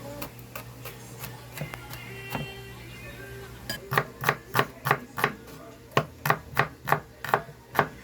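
Garlic and onion chopped on a cutting board, starting with a few scattered knife strikes and then settling into a steady run of sharp, close, evenly spaced chops.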